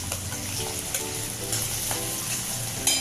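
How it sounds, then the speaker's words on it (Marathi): Garlic and onion frying in hot oil in a home kitchen, a steady close sizzle with crackling pops and occasional stirring scrapes throughout, no voices. "मी तेल घेतलं आहे आता त्याच्यामध्ये मी लसूण घालते कांदा घालून घेते"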